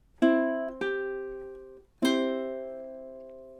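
Three plucked ukulele notes and chords from a Jamaican folk tune, Day-O, each ringing clearly and decaying slowly, spaced unevenly in a slow pattern, close and fairly quiet, with no voice.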